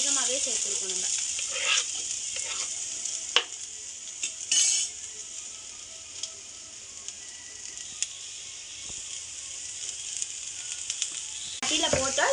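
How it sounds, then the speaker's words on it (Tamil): Onions frying in hot oil in a pan, a steady close sizzle with scattered clinks of a utensil against the pan and brief stirring scrapes, continuous throughout. "இப்போ நம்ம இதில் வந்து வெங்காயத்தை போட போகிறோம்."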